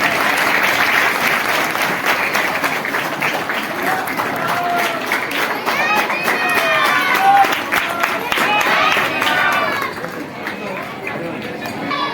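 Crowd applauding at an event at the Sri Rama temple in Pipparavada, a sustained, loud wash of clapping mixed with chatter and voices, easing slightly toward the end.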